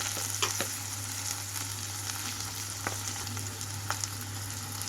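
Chopped tomatoes fry with salt, turmeric and chili powder for a ridge gourd masala curry, a soft continuous sizzle close by with a few spoon taps and stirring scrapes.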